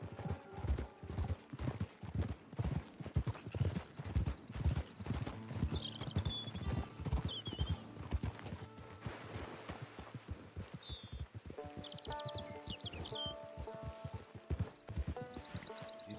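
Horse hooves clip-clop in a steady walking rhythm in Red Dead Redemption 2, with creaking tack or wagon mechanisms and occasional whinnies over a low background, no talk.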